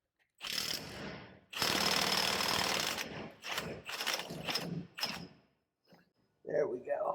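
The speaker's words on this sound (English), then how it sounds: "It's probably not right to use an impact on this, and I know I'm not supposed to have a chrome socket" An impact wrench with a chrome socket removes the pinion yoke nut on a Dana 80 axle of a second-generation Dodge Ram 2500, hammering in loud, close bursts of one to two seconds separated by brief pauses.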